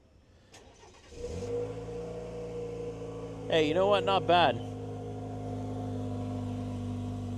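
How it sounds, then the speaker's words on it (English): A Chevy Colorado ZR2 pickup fires up from a cold start on a chilly night, cranking briefly before settling into a steady, fairly loud idle with a short rev burst midway; someone speaks briefly near the end. "Let's do a cold start if we can here."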